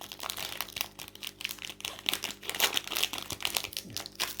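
A Pokémon Évolution Céleste booster pack's foil wrapper crinkles and crackles up close as it is torn open, with dense irregular rustling bursts continuing throughout.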